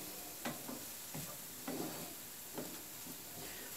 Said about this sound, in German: Das wird in einer separaten Pfanne laut Rezept angebraten.